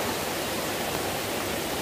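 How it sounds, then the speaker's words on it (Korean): Steady, broad rushing roar of a large waterfall in a mountain valley near Guryongsa temple, continuous and even throughout with no talk. "대형 폭포가 저기 보이고요"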